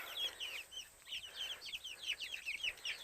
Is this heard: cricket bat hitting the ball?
no